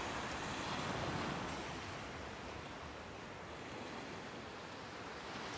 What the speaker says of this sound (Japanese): 海見てる。